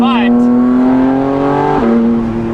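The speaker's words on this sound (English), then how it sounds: "the sound is more flat than our full exhaust with the X-pipe" Porsche Cayman GT4 RS fitted with titanium over-axle exhaust pipes, heard from inside with the windows down: a loud, close, steady droning exhaust note that holds a flat pitch, then briefly dips and settles.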